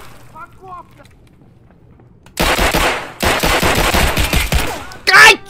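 Rifle fire in the video game Escape from Tarkov comes as loud, close automatic bursts in three runs separated by brief pauses, following a quiet start with faint game sounds.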